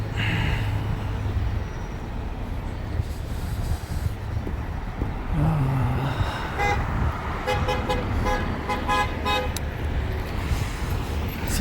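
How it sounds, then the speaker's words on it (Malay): Car horns toot repeatedly in busy Shanghai street traffic, short beeps and a longer honk standing out over a constant roar of engines and road noise, with a cluster of rapid honks in the second half. "Sini memang orang kaki horn sikit."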